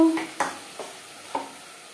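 Marinated spices hitting hot oil with onions in a pot of mutton curry, a few short sizzling bursts and stirring scrapes, close and fairly quiet.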